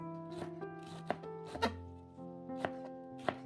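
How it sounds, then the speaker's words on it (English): A knife slices bitter leaf into small pieces with soft, irregular cuts, a few sharper chops standing out over a steady background hum. "I prefer to slice the bitter leaf into smaller pieces."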